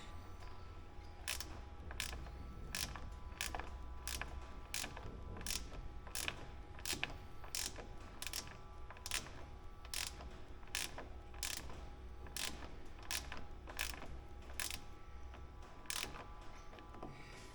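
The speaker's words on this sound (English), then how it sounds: "Here comes the bolt through the nylon." A bolt is tightened through a nylon fitting on a model aircraft undercarriage, giving a long, even series of crisp ratcheting clicks, roughly two per second, close and quiet with no talk.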